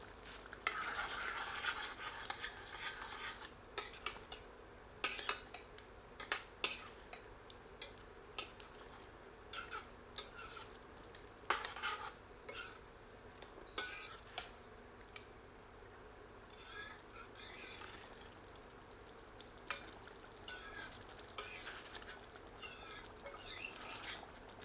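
Yogurt is stirred into black pepper mutton curry in a pan, giving faint repeated scraping and wet clinks of a spoon over a soft sizzle for a long stretch, with no talk.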